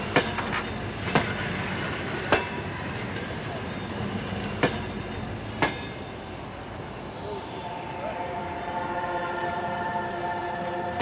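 A train rolls along the rails with periodic clacks from the wheels, then a rising squeal and tonal hum as it slows, fairly close.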